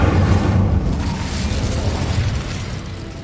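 Incendio fire spell cast in Hogwarts Legacy, a rumbling whooshing burst of flame with a deep low boom that fades steadily over a few seconds, with no talk.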